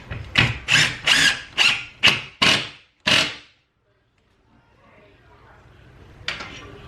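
A power drill drives a screw into wood in seven quick, evenly spaced bursts, loud and close, followed by a few seconds of quiet and a faint rustle before one more short burst.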